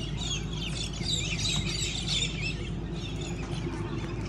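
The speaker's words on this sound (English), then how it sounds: "Look at the bird life." Birds calling at an outback oasis in the Simpson Desert, a dense busy chorus of chirps and twittering, steady and fairly faint over a continuous low rumble of wind or engine.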